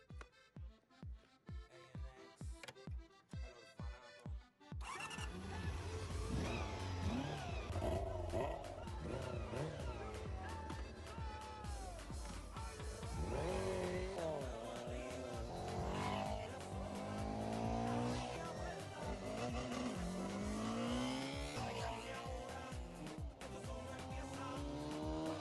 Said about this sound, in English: This series of engines can really be described as smooth as silk. It started up perfectly now. Let's take it out for a test ride.